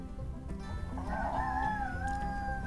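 A rooster crows once in a long, rising-then-falling call, close and clear over a steady low background hum, as part of a told children's story about a proud young rooster.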